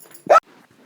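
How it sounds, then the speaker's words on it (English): A dog gives a single short, sharp bark, close and loud, with near quiet before and after. "That was my dog."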